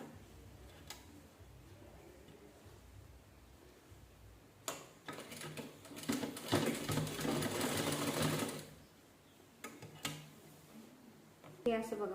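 A sewing machine stitches a lined princess blouse in quiet bursts, the whirring swelling into a loud steady run for a few seconds and then trailing off into short clicks, with a voice talking softly at times.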